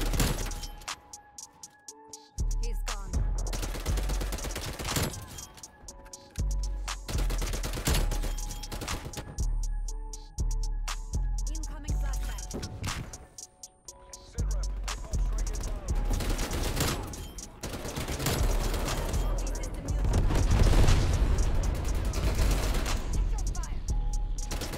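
Tec-9 submachine gun fire in Call of Duty Cold War, repeated rapid full-auto bursts broken by brief pauses, loud and close, with a voice speaking intermittently.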